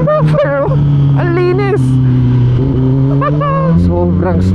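A Kawasaki ZX10R superbike with an SC Project SC1-R exhaust blips and downshifts, its engine note rising and falling in several sharp revving sweeps over a steady low idle drone. A voice talks close by throughout.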